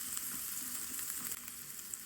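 Chopped onion sizzles steadily in hot oil, tempered for a vegetable pulav: a close, even hiss with faint crackle and no voices.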